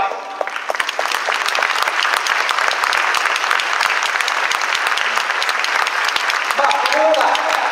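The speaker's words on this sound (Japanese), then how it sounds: "最後ですけどねぎらいの拍手をどうぞ送ってほしいと思います" Sustained applause from a stadium crowd at a home-season-finale ceremony honoring a departing SC Sagamihara player, a dense steady wash of clapping running the whole stretch, with a voice briefly audible near the end.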